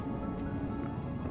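Soft, rhythmic hoof clip-clops from a horse in the video game Starshine Legacy, heard close but fairly quiet over continuous game background music.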